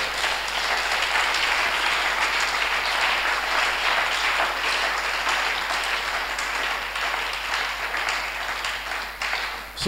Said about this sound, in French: Je voudrais que tu acclames pour ton Rédempteur.